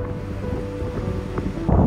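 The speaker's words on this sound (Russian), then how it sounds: "По классификации синоптиков это уже штормовой ветер" Storm-strength wind gusts roar around a small cabin in the mountains. The low, churning rumble is steady and then swells into a louder blast at the end.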